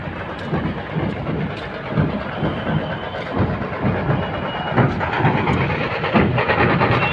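Loud, rumbling music from a DJ sound system at a street rally, with thumping bass beats booming along continuously in a noisy outdoor setting.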